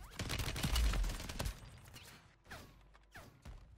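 MCW rifle with a conversion kit firing in a Rebirth Island video game match, a rapid burst of shots up front followed by scattered single cracks and gaps, fairly quiet overall.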